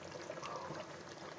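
Pieces of fish going into a pot of boiling fish curry, heard as a steady close wash of bubbling and splashing liquid that runs without a break and without any talking.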